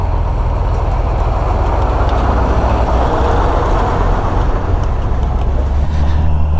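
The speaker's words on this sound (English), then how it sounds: "What is this big truck doing here?" Big truck engine rumbling on a trail road, a loud, steady, close diesel drone with broadband road noise running unbroken throughout, no talk.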